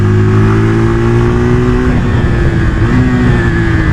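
A Keeway SR250 motorcycle accelerating, its engine note climbing in pitch, dipping at a gear change, then rising again, loud and close with no talking.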